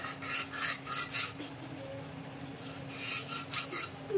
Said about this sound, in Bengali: এবার পেটিটা কেটে নেবো